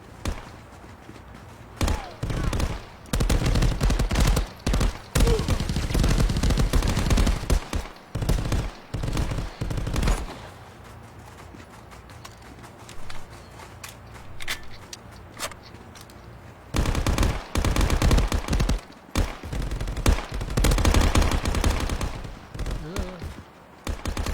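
Rapid bursts of gunfire in the VR shooter Contractors, loud and close, in clustered volleys separated by short quieter gaps, with thumps and a voice heard now and then.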